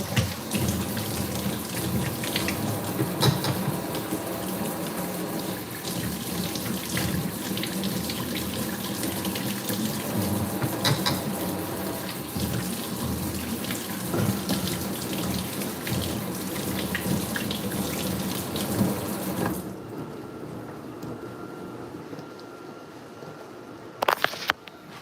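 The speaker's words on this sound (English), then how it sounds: "Wash my hands off." Hands are washed under a running tap, a continuous splashing stream of water close by that holds steady for most of the stretch, then softens near the end with a brief knock.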